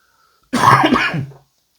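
A single harsh throat-clearing cough, close and fairly loud, about one second long, surrounded by silence.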